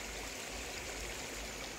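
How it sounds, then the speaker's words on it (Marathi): A small stream flows steadily and close by, a continuous broadband wash of running water with a low rumble underneath, no voices and no breaks over the short stretch. "हे जुळजुळ वाहणारं पाणी आहे."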